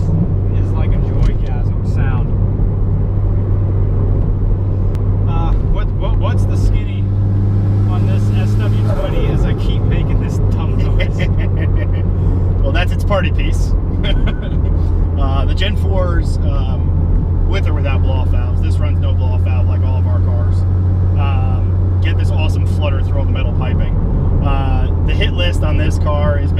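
A revving turbocharged Toyota MR2 engine, about 300 wheel horsepower, with a rapid fluttering turbo sound, loud and close, with someone talking over it throughout.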